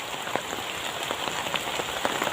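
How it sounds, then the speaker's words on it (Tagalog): Rain falls steadily outdoors, a dense, even hiss of drops striking surfaces, with scattered sharper spatters and taps standing out close by. "Sulit yung ulan, oh, basang-basa na kami mga idol"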